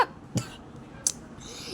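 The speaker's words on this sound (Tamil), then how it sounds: "இருமல் வந்துருச்சு." Two or three short, dry coughs with a throat-clearing quality, spaced apart in a quiet room.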